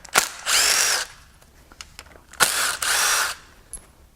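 Power tool removing timing cover bolts on a Ford F-150 3.5L EcoBoost engine during a teardown: two close, loud bursts of whirring drill spin, each preceded by a click, with ratcheting ticks between.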